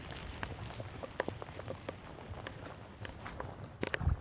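Footsteps crunch along a mountain trail in the rain, a steady walking rhythm of close, sharp steps over a constant wet hiss of rainfall, with a few louder scuffs near the end.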